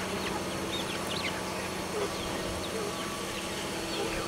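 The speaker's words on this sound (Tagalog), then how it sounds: "Yan, mga chicken na alaga natin." Chickens raised in a backyard flock, with faint scattered clucks and chirps over a constant background hum, and soft voices murmuring nearby.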